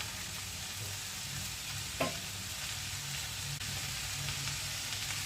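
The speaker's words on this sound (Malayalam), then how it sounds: "നന്നായി ഒന്ന് ഇളക്കി യോജിപ്പിക്കുക." Cabbage thoran sizzling steadily in a pan, with one brief scrape of stirring partway through and a constant frying hiss throughout.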